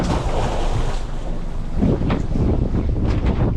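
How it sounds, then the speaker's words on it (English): Strong wind blowing at sea during crayfish pot work from a boat, a loud continuous roar buffeting the microphone with surging gusts and no speech. "Oh, that wind not bad."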